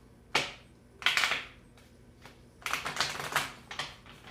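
Quick riffling bursts of tarot cards being shuffled, several short flurries of crisp flapping and clicking, close up and fairly quiet.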